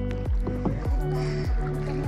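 Kayak paddled through salty sea water at Colva Beach in Goa, with rhythmic splashes and dripping strokes repeating close by, a few distinct paddle hits in quick succession.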